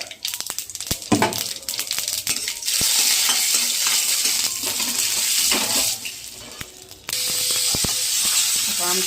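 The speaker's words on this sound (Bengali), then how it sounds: "আর এখানে আমি তেল বসিয়েছি, কী করবো বলো তো, আমের চাটনি করব। তো সর্ষে আর শুকনো লঙ্কা ফোড়ন দিয়ে দিলাম।" Mustard seeds and dried red chillies hit hot oil for a mango chutney, with sharp crackling pops and clinks at first, then a loud continuous sizzle that dips briefly and surges again.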